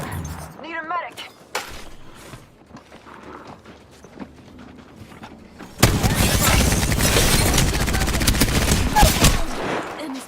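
Video game gunfire in a Georgia vs Alabama dynasty game: scattered shots, then a dense, loud burst of sustained automatic fire, with voices speaking over the action.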